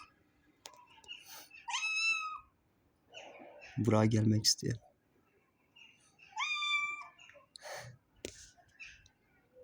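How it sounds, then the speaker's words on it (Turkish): A grown female cat gives two high, thin, kitten-like meows, separated by a person talking nearby. "Kocaman kız oldu daha yavru kedi sesi çıkarıyor ya."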